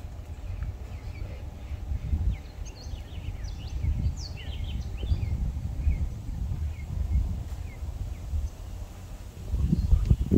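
Faint birds call and chirp intermittently outdoors on a farm, scattered high calls over a rumbling, rustling background of wind and movement.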